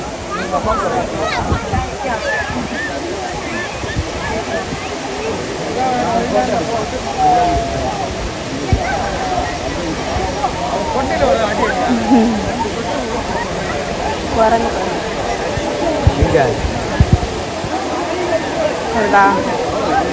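Heavy water crashing at Courtallam falls, a broad steady roar filling the whole clip, with a crowd of people talking and calling out throughout.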